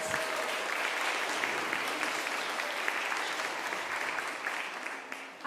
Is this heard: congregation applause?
yes